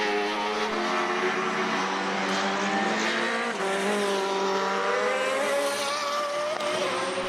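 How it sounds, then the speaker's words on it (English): A Lola race car engine screams past at Mondello Park during a BOSS race, loud and continuous with rising and falling revs as it shifts gears, close and dominant with no voices. "Dwyer's Lola sounding great"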